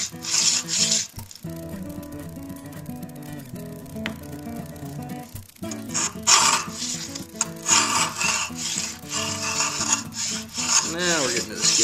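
A hand router plane shaves a wood surface in a series of rasping, scraping strokes, close-up, with a few knocks and clicks between passes and no speech.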